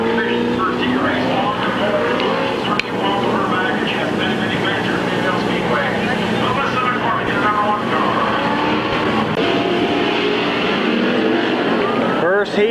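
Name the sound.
street stock race cars racing at speedway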